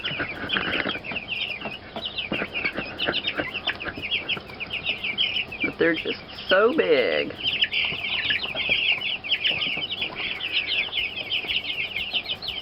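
Chickens cluck and chatter continuously at close range, a dense flock sound with a few louder squawks, while a person speaks briefly over it.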